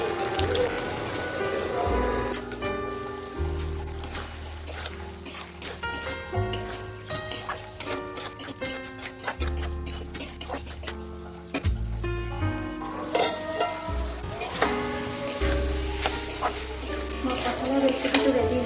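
Soaked jackfruit frying in a pan over a high gas flame, with a loud steady sizzle and frequent clattering metal stirs scraping the pan in an uneven rhythm.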